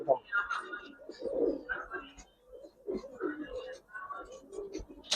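Giribaz pigeons coo softly in a loft, low murmuring calls repeating close by while someone speaks quietly over them.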